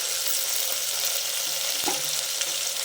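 Ginger and garlic frying in a pan for mushroom pulao give a steady, close hiss of sizzling oil, with a few faint stirring knocks and no talking.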